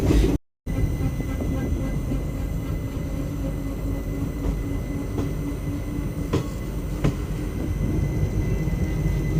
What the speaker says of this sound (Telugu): ఒక మూడు నిమిషాల హాల్ట్ తర్వాత మన ట్రైన్ తిరిగి బయలుదేరింది